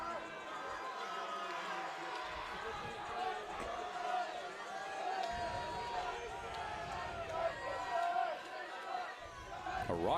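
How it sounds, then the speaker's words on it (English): A raucous crowd at a minor-league baseball game, a broad steady roar of cheering and chatter that runs throughout beneath a play-by-play voice. "A raucous crowd tonight compared to last Wednesday."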